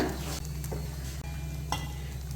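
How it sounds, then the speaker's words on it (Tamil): Batter for a quick dosa without urad dal or rice sizzles on a hot pan, a steady close frying hiss with a couple of soft clicks. "இப்போ தோசை ஊற்றிடலாம்"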